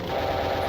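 Rapid automatic gunfire from a weapon in a video game rattles loudly and continuously through a short, dense burst with no voice over it.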